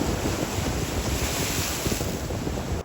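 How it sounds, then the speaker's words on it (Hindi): Ocean surf breaks at French Beach near Karachi. The wash roars steadily and loudly, with heavy wind buffeting the microphone throughout and no voices. "बड़ी लहर आ गई"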